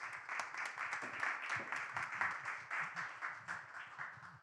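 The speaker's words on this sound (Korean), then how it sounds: "큰 박수로 맞이해 주시기 바랍니다" An audience at a student education-donation event claps to welcome a speaker to the stage, a moderately distant, steady round of applause lasting several seconds.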